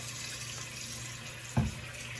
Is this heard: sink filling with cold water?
yes